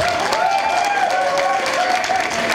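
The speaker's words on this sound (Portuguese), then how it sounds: "eu queria que vocês dessem um grande aplauso para uma pessoa muito especial que está dentro da sala" A packed room of people claps loudly and steadily in dense, continuous applause, with a bright cheering tone over it and no pause for the whole stretch.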